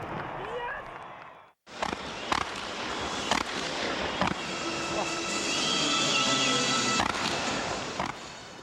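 Fireworks at a Pyro Spectaculars display in the San Bernardino area of Southern California. Sharp booming bursts pop at intervals over a continuous crackling roar, with voices in the background.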